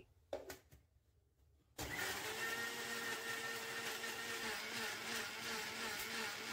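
A mixer grinder switches on after a short silence and runs steadily at full whir, grinding soaked tamarind and tomatoes into a fine paste, loud and close with a few small knocks before it starts.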